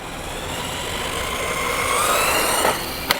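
A Wltoys XKS 104001 1/10 RC buggy speeding toward a jump, its electric motor a continuous rising whine that builds in pitch and loudness over a few seconds, ending with a quick sharp click.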